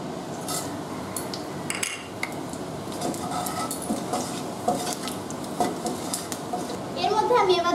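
Whole spices (bay leaf, cardamom, cinnamon, cloves, dried chillies, cumin seeds) crackle in hot oil for an egg curry, a steady close sizzle with utensil clinks and stirring throughout.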